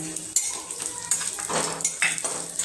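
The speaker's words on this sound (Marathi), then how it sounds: "आता खोबरं आणि धनं छान असे आपण भाजून घेऊया" Coriander seeds and grated coconut dry-roasting in a pan, stirred with a utensil that scrapes and clinks against the metal in a few close, uneven strokes, with no talk.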